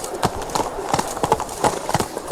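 Hooves clip-clop in The Witcher 3 as a horse walks along, with a steady rhythmic clatter of hoofbeats over a faint background hum.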